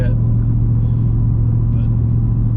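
A turbocharged Foxbody Mustang cruises along a road, its engine a steady, loud low rumble heard from inside the car, with no speech over it.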